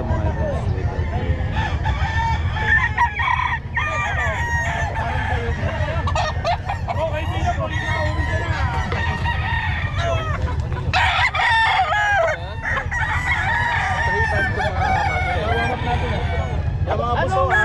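Sweater gray gamefowl roosters crowing repeatedly with clucking around them, loud and near, overlapping through a busy yard while people talk throughout.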